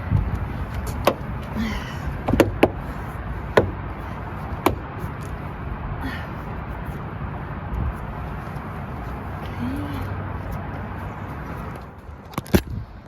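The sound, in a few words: car door trim panel clicking into place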